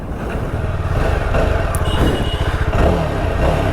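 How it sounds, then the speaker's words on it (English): A 2022 Yezdi Scrambler twin-exhaust motorcycle engine revs loudly up close, its exhaust throbbing in a steady, pulsing burble that rises and falls. "I'll just let you listen to the beautiful exhaust."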